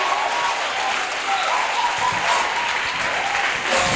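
Steady applause from a worship audience acclaiming the king of kings, a dense continuous clapping texture held at an even level throughout.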